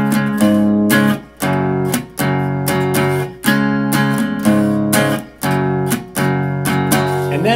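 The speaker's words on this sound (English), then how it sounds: "Okay, so the whole section will sound like this." An electric guitar plays a strummed section of a song, with loud, rhythmic chord strokes broken by brief choppy mutes, repeating steadily and alone.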